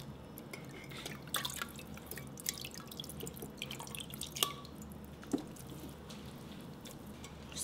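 Soybean liquid dripping through folded cheesecloth into a strainer, soft irregular drips and small splashes, quiet and close, with no talk.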